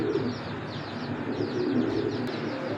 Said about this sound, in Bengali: এই যে দুইটা কবুতর